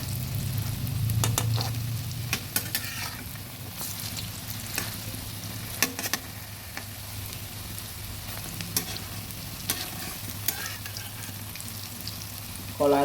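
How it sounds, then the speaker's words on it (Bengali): Banana flower pakoras fry in hot oil with a steady close sizzle, while scattered clicks and scrapes of a utensil mark them being stirred and flipped over partway through. "একদিক কিছুটা ভাজা হয়ে গেছে, এবার উল্টে দিচ্ছি।"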